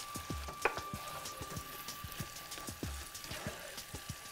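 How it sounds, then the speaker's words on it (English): Shrimp and green onions stir-fry in a hot pan with a constant crackling sizzle, broken by scattered pops and light clanks of a utensil against the pan. "Stir fry this for about 2 to 3 minutes."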